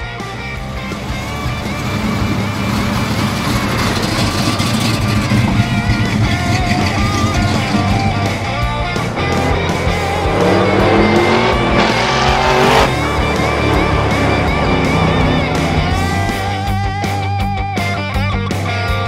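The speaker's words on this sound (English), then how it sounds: "So you want to drive the Buick in the back?" A Buick car is driven in a loud, continuous engine roar that swells and revs, with tire noise mixed in throughout.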